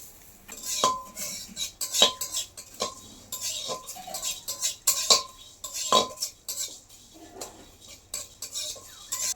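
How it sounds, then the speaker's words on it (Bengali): Coriander and fennel seeds are dry-roasted in a wok, with a metal spatula scraping and clinking against the pan in quick, uneven strokes. There is no oil sizzle and no talk. "শুকনো কড়াই হালকা ভেজে নেব, নিয়ে মশলা বানিয়ে নেব।"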